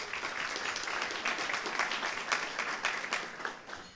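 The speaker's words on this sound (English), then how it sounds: "Round of applause for everyone here." Audience applause fills a City Club forum on connecting neighborhoods to the waterfront, a dense steady clapping from a crowd that holds evenly for several seconds before beginning to thin near the end.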